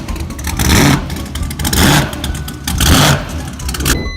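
A small Volkswagen car engine revs hard in repeated surges, loud and close, rising and falling several times with a throaty roar.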